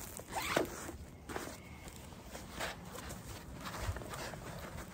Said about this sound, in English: It does have YK zippers on there.